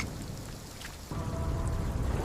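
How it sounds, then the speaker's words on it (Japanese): Rain and thunder of a mountain storm, with steady rainfall throughout and a low rumble of thunder swelling partway through. "金太郎は仲間たちと、嵐の山を駆け抜けます"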